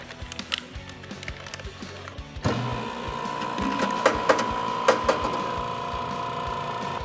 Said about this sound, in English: So this Vac Master is gonna suck all the air out